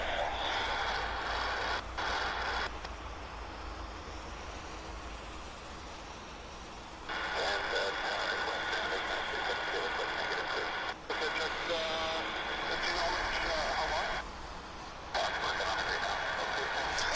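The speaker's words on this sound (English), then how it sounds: "this is Air Canada heading to Toronto. It's the Air Canada 116, Dreamliner. They're just about ready to release their brakes" An Air Canada 116 Boeing Dreamliner jet at Vancouver International Airport idles with a steady, distant engine whine and hum under wind noise, with a voice talking over parts of it.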